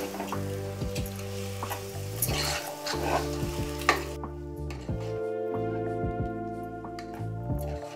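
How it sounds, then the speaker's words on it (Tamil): Mushroom masala for mushroom biryani sizzles and fries steadily in a pan while a spoon stirs and scrapes through it, with a soft continuous crackle close by. "கிளறி கொடுத்துட்டே இருக்கணும்."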